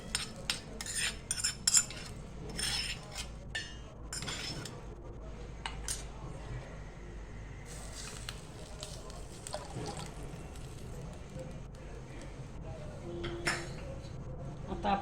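Fried cumin tempering tipped into spiced buttermilk: metal spoon and pot clinks, soft splashes and drips of liquid, then a calmer stretch of faint stirring.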